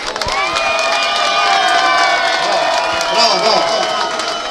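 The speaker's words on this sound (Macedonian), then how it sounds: "Ајде на аплауз." At a local football tournament award ceremony, a crowd cheers and applauds a goalkeeper called forward. Loud, close clapping mixes with shouting voices, including children's, for the whole stretch.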